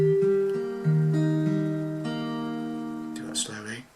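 Acoustic guitar picks the first half of a bar from a song, sustained notes ringing clearly and fairly quietly up close, with a brief scrape at the end.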